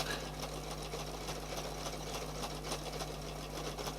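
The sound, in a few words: sewing machine stitching decorative stitches on fabric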